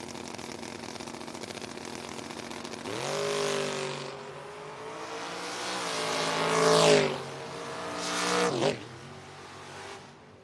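Two drag race cars, a Mopar and a Ford, idle loudly and then roar off the line together, engines rising and falling as they pull away, with a second surge later and a sharp cutoff near the end.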